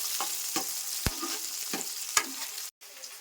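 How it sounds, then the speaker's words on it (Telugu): Food frying in oil with a steady sizzle, broken by several sharp clicks and scrapes, close and moderately quiet, with a brief dropout near the end. "చక్కగా ఇవి వచ్చేసి మగ్గనియాలి ఆయిల్లో"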